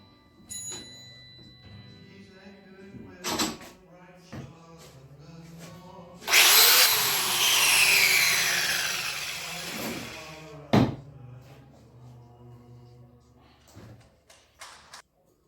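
A power tool cuts through a hinge part for a Mini-Max 1030T build, roaring loudly for about four seconds in the middle, with thumps and someone talking before and after.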